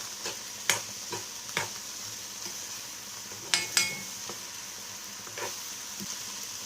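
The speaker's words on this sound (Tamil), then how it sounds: "இஞ்சி பூண்டு சேர்த்ததுக்கப்புறமா லைட்டாக 2 நிமிஷம் வதக்கினா போதும்." Ginger garlic paste sautéing in a pan for a few minutes, a steady quiet sizzle broken by scattered sharp ticks and light utensil clinks.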